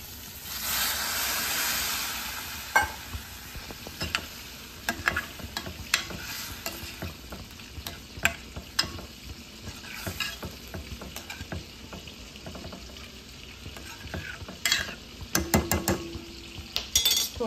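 Prawn curry sizzles in a pan while a spoon stirs and scrapes, with a loud hiss at first, then repeated clinks of the utensil against the metal pan.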